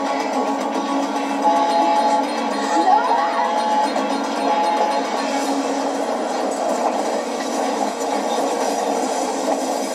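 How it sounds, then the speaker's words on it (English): A train rumbles steadily along the rails with a continuous roar and faint metallic clatter, heard from inside at a constant level. "Damn it, Jack, you're headed right towards another train"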